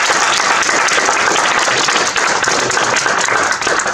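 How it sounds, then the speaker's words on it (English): A seminar audience gives a loud, dense round of applause lasting several seconds, steady continuous clapping close by with little talk. "please give yourselves a round of applause"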